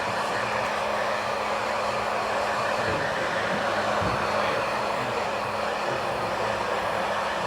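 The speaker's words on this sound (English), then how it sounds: "Dry out some of this hair a bit." A barber's hair dryer blows on a customer's hair in a steady, loud, unbroken rush of air that holds constant from start to finish, with no voices.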